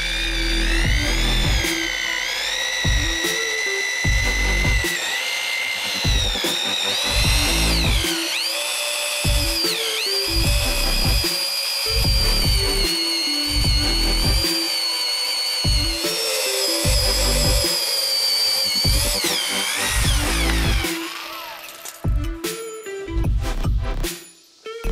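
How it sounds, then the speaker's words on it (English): A power drill spins a hole saw through a rubber control arm bushing, whining loudly in long, steady runs broken by short pauses and pitch dips as the cutter bites, with no talking. "we're gonna fit the hole saw in, and then we're gonna go grab the right size hole saw"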